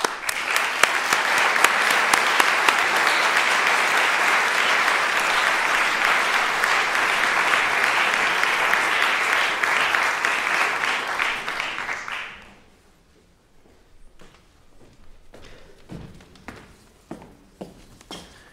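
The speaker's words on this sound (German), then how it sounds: "Vielleicht kriegt er schon mal einen Applaus vorweg." A lecture-hall audience applauds steadily and loudly for about twelve seconds before the clapping dies out, leaving scattered footsteps and small knocks.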